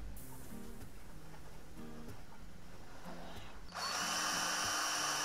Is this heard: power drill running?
yes